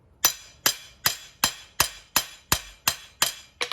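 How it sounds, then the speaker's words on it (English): A hammer strikes a hot steel bar on an anvil beside a coal forge, nine sharp ringing blows in a steady even rhythm, close and loud, each decaying quickly, with no talking. "So I'm hammer polishing now"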